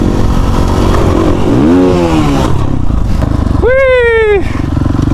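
A dirt bike engine revs hard and steadily in third gear during a wild joyride, loud and close throughout, with voices shouting over the roar.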